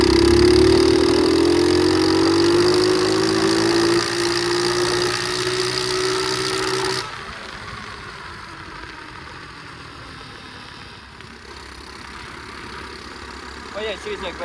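A pit bike engine idles steadily and fairly loud for about seven seconds, then drops to a quieter, rougher low rumble for the rest.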